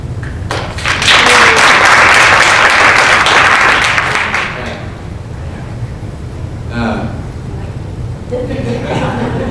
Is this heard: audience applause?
yes